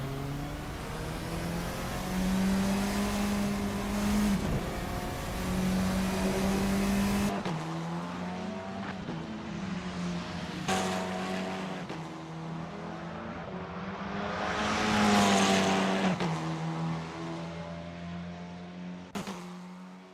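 A Formula 4 race car in the Assetto Corsa racing game at a Melbourne circuit screams steadily through a hilly section, its engine note rising and falling with gear changes and a louder surge mid-clip, continuous and close.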